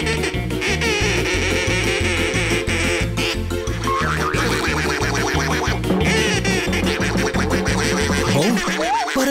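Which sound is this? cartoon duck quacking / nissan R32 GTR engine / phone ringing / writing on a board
cartoon duck quacking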